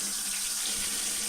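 Water runs steadily from a tap while Pump It Up SX dance pad parts are rinsed under it, a constant close hiss and splash with no pauses and no voices.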